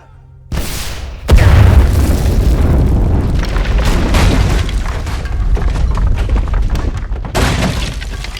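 A rocket launcher fires and its round explodes: a sharp launch blast is followed by a loud, close boom that trails into a long, rumbling roar lasting several seconds, with a second surge near the end.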